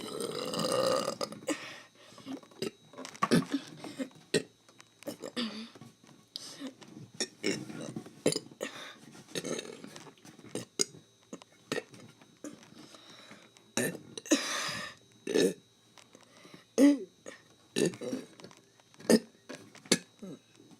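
Repeated burps sound close and loud in irregular bursts, one after another with short gaps, mixed with faint breathing and mouth sounds.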